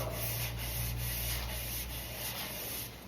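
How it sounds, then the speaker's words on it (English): A continuous, even scraping hiss of sanding a car body panel, steady back-and-forth strokes following the panel's shape over a low hum, fairly close. "So cut back on your sanding in the other way as well."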